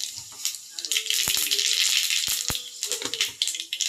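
Mustard seeds crackle in hot oil, a bright close sizzle with irregular pops and several sharp knocks of a pan or utensil.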